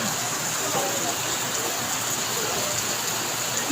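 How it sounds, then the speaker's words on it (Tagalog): Dense, steady downpour of heavy rain hissing continuously on surfaces in Tagaytay, loud and close with no breaks. "Ang lakas, oh. Ang lakas. Lakas ng ulan."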